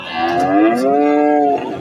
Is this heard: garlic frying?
no